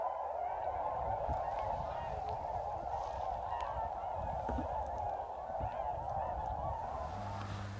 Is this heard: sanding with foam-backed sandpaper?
no